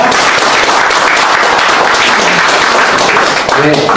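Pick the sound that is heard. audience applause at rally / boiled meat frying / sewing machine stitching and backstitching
audience applause at rally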